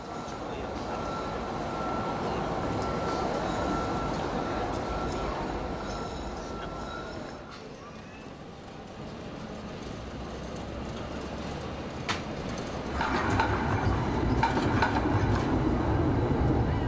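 Modern trams roll through the old medieval streets of Ghent, a continuous rumbling, rattling wheel-on-rail noise with faint clatter and a brief lull, heard fairly loud and steady throughout.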